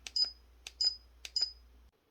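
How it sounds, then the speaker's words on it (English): Three short electronic double beeps from a camera's buttons, evenly spaced, bright and high-pitched over a faint low hum. "now you can hear the beep"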